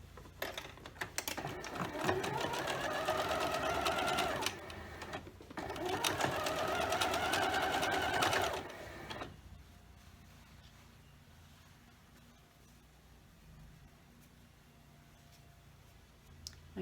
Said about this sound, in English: Now we're going to sew them together into a complete unit.